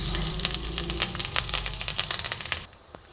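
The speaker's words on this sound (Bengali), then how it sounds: "শুকনো লঙ্কা, দেব কারি পাতা দিয়ে এবার ফোড়নটা খুব ভালো মতন ভেজে নেব।" Dried red chillies and curry leaves frying as tempering in hot oil, a close crackling sizzle with sharp pops that abruptly drops away near the end.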